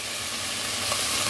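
Pork for sinigang sizzles in a hot pot, a steady bright hiss of frying with faint stirring, close and continuous with no talk.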